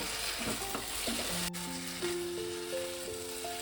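Raw chicken wings are stirred and tossed with spices and a pinch of sugar, giving soft, steady wet rubbing and scraping sounds under quiet background music.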